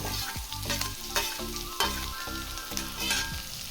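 Onion, green chilies and tomato sizzling in a hot pan for shavige bath, a loud crackling fry with rhythmic stirring scrapes every half second or so, close up and with no voices.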